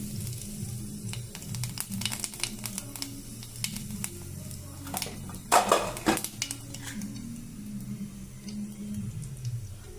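Cumin seeds dropped into hot oil in a pan, giving a soft sizzle with scattered clinks of a utensil against the pan and one louder burst of crackling midway; close and fairly quiet, no talking.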